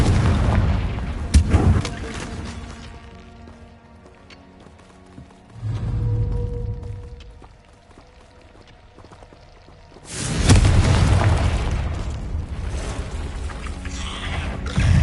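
Confringo fire spells explode in the Hogwarts Legacy video game. Two heavy, roaring blasts, one near the start and one two-thirds through, swell into rumbling booms with a quieter whooshing swell between them.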